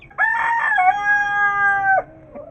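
A rooster crows loudly and close by on a rooftop where chickens and chicks are kept, one long drawn-out call lasting about two seconds with no talking.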